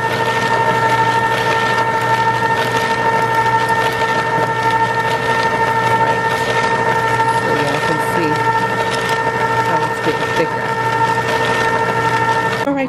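Pioneer Woman ice cream maker churning chocolate chip ice cream with a steady loud mechanical hum and whine that strains as the thickening mix stops the paddle from turning, continuous throughout.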